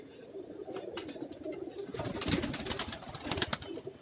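Pigeons on a rooftop loft in Karachi, giving soft cooing calls and scattered bird sounds over a steady outdoor background at moderate level, with no talking.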